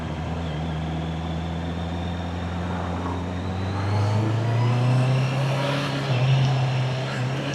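A motorcycle ridden along the coast between Menton and Monaco, its engine a steady droning rumble that rises in pitch and loudness partway through as it accelerates, with wind noise throughout.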